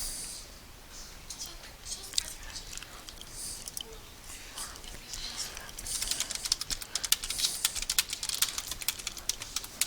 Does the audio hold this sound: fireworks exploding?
no